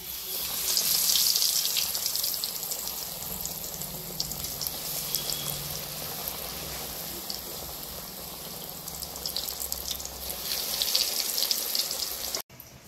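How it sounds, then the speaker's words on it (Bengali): Eggplant slices rubbed with salt and turmeric, dipped in gram-flour batter and dropped one by one into hot oil, sizzling in a steady, dense hiss that carries on without a break and stays fairly close. No voices. "এবারে আমি লবণ হলুদ দিয়ে মাখিয়ে রাখা বেগুনকে বেসনে ডুবিয়ে এক এক করে আমি তেলে ছেড়ে দিচ্ছি"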